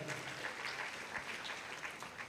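An audience at a university alumni lecture claps steadily, a dense, even patter of many hands continuing without a break.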